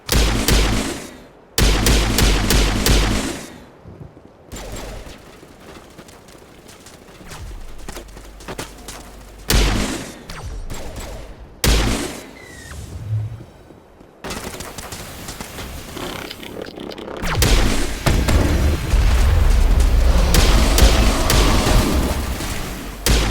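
Heavy video-game crossfire of rapid gunshot bursts and booming explosions, loud and dense with brief lulls between volleys and a sustained barrage building toward the end.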